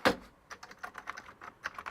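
Keys clatter on a real Commodore computer keyboard with a soft dome feel, a sharp first stroke followed by a quick, uneven run of close, light taps.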